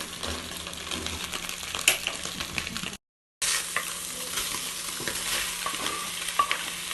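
Tomatoes frying with omena fish in a Kenyan-style pan, a steady crackling sizzle with scraping stirs and a clink, briefly cutting out before the sizzle resumes.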